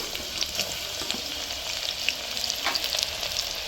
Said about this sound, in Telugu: ఇప్పుడు ఆయిల్ హీట్ ఎక్కిన తర్వాత ఆనియన్స్ వేసుకోవాలి